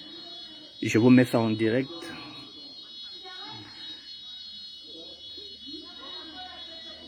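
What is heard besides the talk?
fire alarm ringing in a building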